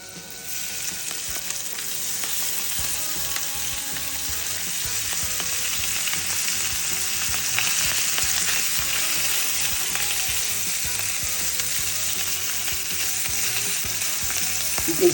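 Shrimps frying over medium heat in a preheated pan, a loud dense crackling sizzle that holds steady and close for the whole stretch, with no voices.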